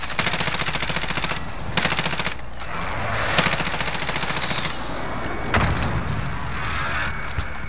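Rapid automatic gunfire from a Call of Duty: Modern Warfare match rattles in long continuous bursts with short gaps, loud and close, and no voices are heard over it.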